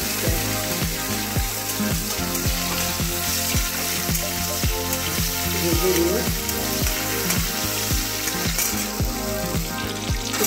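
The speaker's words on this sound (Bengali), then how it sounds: "দেখুন আমার যে ফোড়নগুলো দিয়েছি সেগুলো প্রায় ভাজা হয়ে গেছে।" Whole spices for a vegetarian soybean and potato curry sizzle in hot oil, a steady close crackling hiss with rapid irregular pops, alone and unbroken throughout.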